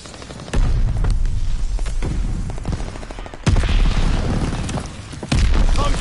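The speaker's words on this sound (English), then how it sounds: "Mortars incoming." Mortar explosions in Call of Duty Vanguard, three loud, heavy booming impacts spaced a few seconds apart, each followed by sustained rumbling and scattered gunfire.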